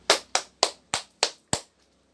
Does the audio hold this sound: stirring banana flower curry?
no